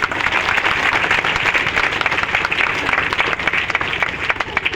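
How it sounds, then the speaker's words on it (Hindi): Loud, dense applause from a seated audience at a health talk, sustained clapping throughout with no pauses. "जोरदार ताली"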